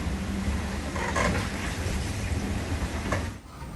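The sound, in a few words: thunderstorm with rain at sea on a sailboat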